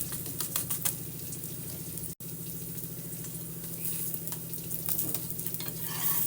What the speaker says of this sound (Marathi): एका साईडने आपला पराठा छान असा भाजलेला आहे आता दुसऱ्या साईडने पण मी भाजून घेते